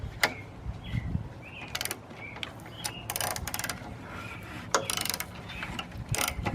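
Tiller engine turned over by hand with its stuck valve mechanism moving, giving repeated ratcheting clicks and mechanical clatter in short bursts, close up with no talk.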